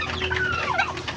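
A giant rooster clucks close by in a backyard, a short burst of throaty, warbling clucks with a rising and falling squawk.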